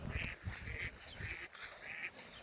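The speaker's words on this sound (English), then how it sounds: "there's some ducks that made the nest" Several ducks quack near their nest on a small farm, a run of short nasal calls repeating in quick bursts, fairly close and clear over a faint outdoor background.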